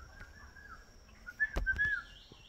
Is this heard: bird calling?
yes